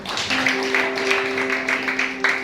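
A church congregation applauds in a steady, dense wash of clapping from many hands in a reverberant hall, continuous for the whole stretch, with a sustained organ-like tone humming underneath.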